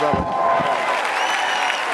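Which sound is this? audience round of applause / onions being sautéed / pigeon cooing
audience round of applause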